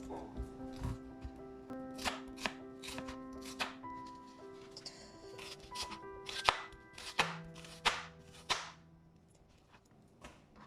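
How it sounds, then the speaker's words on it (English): Knife chopping a white onion on a board, a dozen or so crisp, close thuds in an uneven rhythm, some in quick pairs, with faint clatter between strokes. "If you don't want to cry when you chop an onion, you need to breathe with your mouth and not with your nose."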